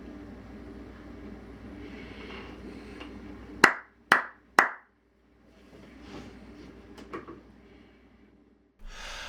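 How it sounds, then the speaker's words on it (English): Three sharp hand claps in quick succession, loud and close, made to sync separate recordings during a model ship build in a workshop; quiet room noise before and after. "The reason I do that clapping thing is so that later I can easily line up the two video files"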